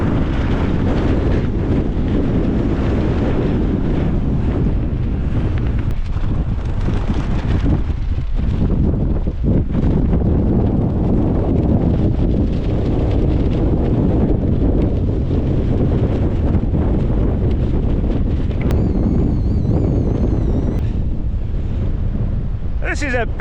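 Storm-force winds of around 40 to 50 mph batter a large Nortent LY2 tent during Storm Eowyn, a continuous, heavy roar with buffeting gusts and flapping fabric that never lets up.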